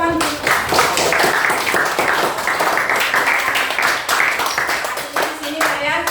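Classroom applause from a group of students, a burst of steady clapping lasting several seconds, close and fairly loud, with a teacher's voice speaking over it.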